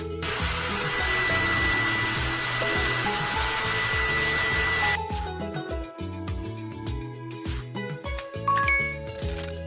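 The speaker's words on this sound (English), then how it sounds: "Use the hair dryer." A steady, broad whooshing blow holds for about five seconds, then cuts off, leaving clinks and clatter with a tonal hum beneath.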